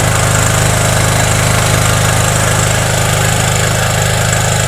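A petrol generator converted to run on mains gas, working under a 2 kW load, gives off a loud, steady mechanical hum and engine drone throughout with no voices.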